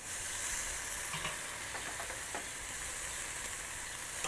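Chicken sears over the fire on a kettle grill for a Korean-style barbecue, giving a dense, loud, continuous sizzle with faint scraping near the middle and no talk.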